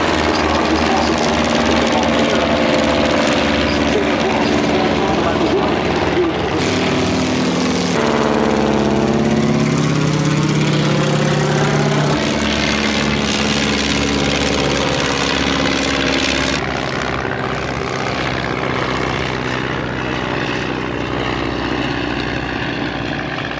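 First World War style propeller aircraft at the Duxford Battle of Britain Airshow dive and pass overhead, their engines droning loudly and shifting in pitch as several planes sweep by in sequence, with no talking.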